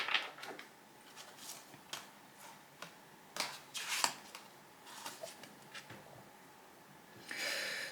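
Playing cards shuffled and handled during a tarot reading, giving a series of short papery riffles and snaps spread across the clip, ending in a longer flutter, quiet with no talk.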